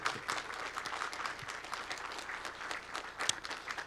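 Audience applause welcoming a guest, Mr. Yu Xiaodong, called to the front at an international green climate organization gathering; dense, steady clapping from a crowd throughout, with no talk over it.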